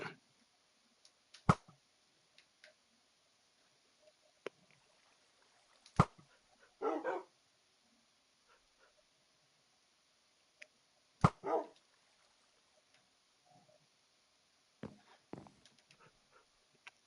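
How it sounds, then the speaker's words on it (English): Short dog barks in a Minecraft game, a few isolated yaps spread out over a quiet stretch with sharp clicks between them. "Dog."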